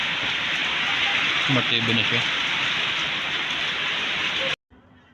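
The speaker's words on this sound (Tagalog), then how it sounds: "Sobrang lakas na ng ulan." Heavy typhoon rain pours in a dense, constant hiss, with someone talking briefly under it before the sound cuts off abruptly.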